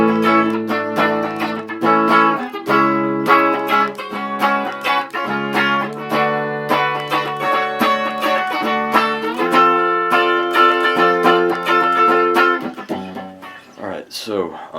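Electric guitar working through a chord progression, with sustained chords and busy changes played steadily and loudly for most of the passage, thinning out near the end.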